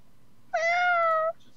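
Winnie the cat gives a single clear meow lasting under a second, standing out against a quiet room tone.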